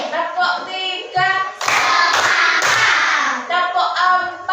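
Grade 4 students in an Indonesian classroom clapping a counted pattern, several sharp bursts of group claps between sung or chanted voices.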